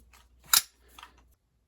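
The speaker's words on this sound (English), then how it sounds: "You stick the nail in at the other end. And then you just push down and shoot." A nail gun fires a single nail into wood in a workshop, one sharp snapping crack followed by a softer second click, brief and close with nothing else around it.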